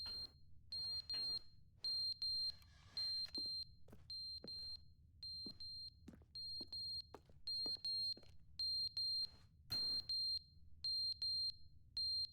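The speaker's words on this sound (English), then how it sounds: "Fire alarm." Repeated electronic beeping of a fire alarm in the video game The Stanley Parable: Ultra Deluxe, sounding in regular high-pitched bursts with short gaps, steady and fairly clear over a low background hum, with no talking.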